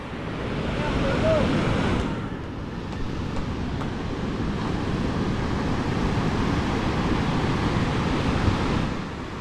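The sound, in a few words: sea waves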